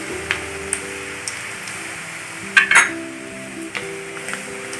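Onion goes into a hot pan with ginger and garlic for kadai chicken, giving a steady close sizzle with a few light utensil clinks and one sharper clatter midway.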